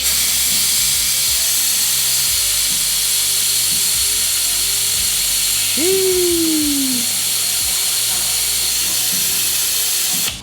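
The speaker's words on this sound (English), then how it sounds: "Take a brake bleed tool, set it up on there, apply some vacuum, watch it do its thing." A loud, steady pneumatic hiss from a vacuum brake bleed tool on a 2025 Harley-Davidson Low Rider S runs throughout, close up, with a brief rising-and-falling squeal partway through.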